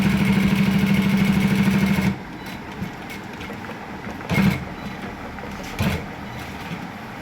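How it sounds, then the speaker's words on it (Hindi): An electric sewing machine stitches a collar with a steady motorized hum for about two seconds, then stops, leaving quiet handling noises and a couple of brief soft bumps as the fabric is moved. "इसके बाद आपने इधर से सिलाई शुरू करनी है।"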